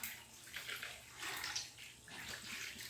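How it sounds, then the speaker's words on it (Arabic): Water runs and splashes steadily as something is washed under it, probably at a basin or tap. The sound is soft and continuous, with gentle surges and no speech. "بعد نغسل"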